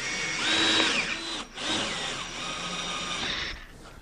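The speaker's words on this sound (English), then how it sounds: "Set up on the lathe here." A wood lathe turns a found, uneven chunk of wood, giving a steady high motorized whine with a rough undertone that dips briefly midway, then runs on evenly until it tails off near the end.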